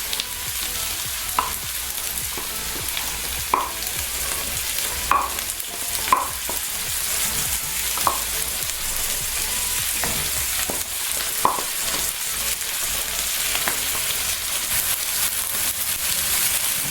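Garlic frying in a pan with onions for kebabs, a steady bright sizzle running throughout, punctuated by occasional spoon clicks and scrapes against the pan, no voices.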